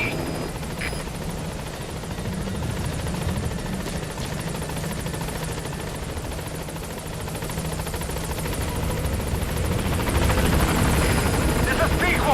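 Helicopter arriving at a landing zone in the video game Metal Gear Solid V: The Phantom Pain, a loud, steady rotor drone with chopping texture throughout, swelling slightly toward the end while radio voices talk over it.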